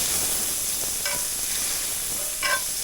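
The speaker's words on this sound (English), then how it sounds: "Starting to brown up nicely. Browning the meat." Lamb meat browning in its own fat in a pan at a woodland cabin, a constant close sizzle and crackle with a couple of brief metallic scrapes from stirring.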